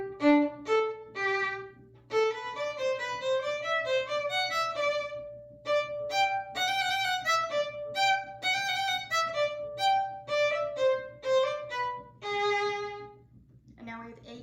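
Solo violin plays section A1 of the Gavotte from Mignon, close and clear, in lively phrases of short detached notes with quick runs, brief pauses and a few held tones, with no talking.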